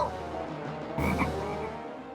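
A frog croaks in repeated low, raspy calls, fairly close and steady, with a sharper burst partway through, in the animated series Chidiyaghar.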